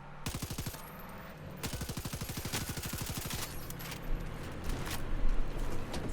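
Rapid automatic gunfire in the open-world shooter game Far Cry 6, dense machine-gun bursts in fast rhythmic strings, loud and close, followed by scattered shots and explosions.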